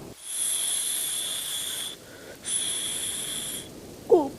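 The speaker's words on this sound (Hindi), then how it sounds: "ऐसी आवाज किसी खतरनाक सांप की होती है।" Two long, sharp hisses like a snake, separated by a brief pause, followed by a short, different squeak at the end.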